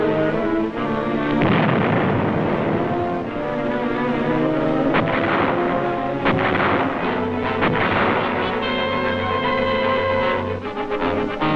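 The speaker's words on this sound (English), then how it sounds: "These are reduced individually by explosives and small arms fire." Combat noise from World War II fighting on Okinawa, where explosives and small arms fire reduce caves and sniper positions: dense, continuous loud rumbling blasts and crackling gunfire with repeated heavier bursts, no voices.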